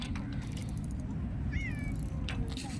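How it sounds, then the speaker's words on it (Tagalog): A cat meows once with a rising, drawn-out cry, faint over a steady low background rumble. "Grabing pusa dito, nagkagulo na."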